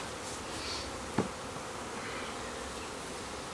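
Honeybees from a package buzz in a steady, dense drone during installation into a hive in the spring flower season, with one brief sharp knock partway through.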